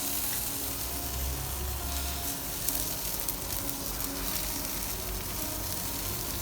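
King prawns coated in barbecue sauce sizzle on a barbecue grill with a steady, dense crackling hiss that holds at an even level throughout.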